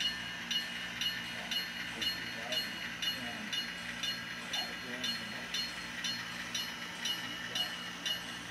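An HO scale model train runs steadily along its track, a soft regular clicking repeating about every half second over a faint hiss and low hum.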